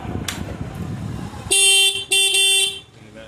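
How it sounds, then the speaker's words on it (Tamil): A loud, harsh extra horn on a motorbike honks twice in quick succession after a moment of low engine rumble, close by and piercing, indoors. "இப்போ இந்த ஹார்ன் சவுண்டு பாருங்கள்."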